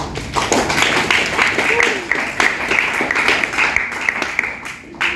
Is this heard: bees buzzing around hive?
no